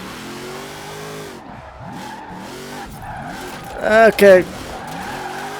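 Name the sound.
Buick GSX drifting with tire squeal, video game Forza Horizon 4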